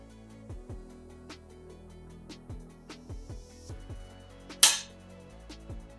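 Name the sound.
Savage Axis rifle trigger pulled, sear releasing firing pin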